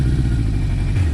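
A 1981 Suzuki GS1000GL motorcycle engine, cold after sitting all winter, starting with the choke held out and settling into a steady low rumble close by.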